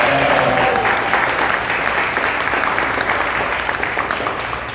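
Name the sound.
audience applause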